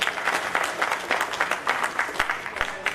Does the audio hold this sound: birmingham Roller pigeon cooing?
no